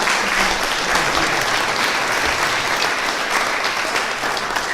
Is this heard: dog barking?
no